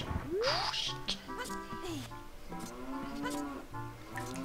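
Cows in The Legend of Zelda: Ocarina of Time lowing repeatedly, several overlapping drawn-out moos close by, one after another with hardly a pause.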